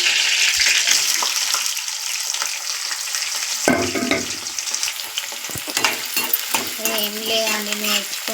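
Cumin seeds and onions frying in hot oil, a loud, continuous close sizzle with scraping and stirring clatter from a utensil partway through, and no voices.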